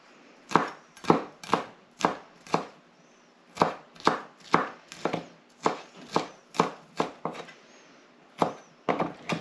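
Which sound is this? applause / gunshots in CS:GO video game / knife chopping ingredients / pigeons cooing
knife chopping ingredients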